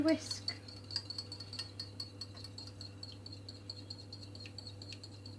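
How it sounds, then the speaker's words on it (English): Whisking in a bowl while making picnic bites, a faint run of light, rapid clinks and rattles of a whisk against the bowl, fairly quiet and close, with brief talk at the start. "Give it a little bit of a whisk"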